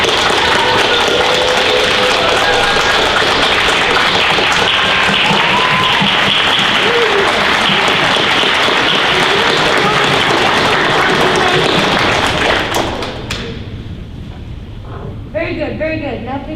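Applause from a school-musical audience of fifth and sixth graders and families, a dense steady clapping of many hands that carries on loud for about twelve seconds, then thins to scattered claps and a few voices before a brief renewed burst.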